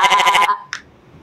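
A person imitates a goat's bleat, a short, loud, wavering vocal "baa" heard alone, followed by a brief faint click.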